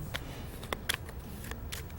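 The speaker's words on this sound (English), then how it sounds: "We'll shuffle this one more time" A deck of playing cards being shuffled, with crisp riffle bursts and flicking rattles that come in several short clusters across two seconds over a low background hum, close and moderately loud.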